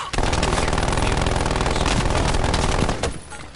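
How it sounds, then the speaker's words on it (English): A hostile sentry turret in a video game fires a loud, continuous burst of rapid automatic shots that lasts about three seconds and then cuts off sharply. "Hostile sentry turret active."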